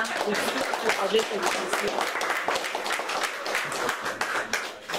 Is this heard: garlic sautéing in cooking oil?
no